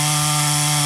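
A 440 chainsaw runs steadily while notching a tree during tree felling, its loud, even engine drone close to the microphone with no break and no voices.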